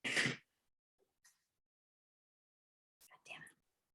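A single short, sharp sneeze bursts out at the start, followed by near silence with only faint breaths and a brief murmur of voices near the end.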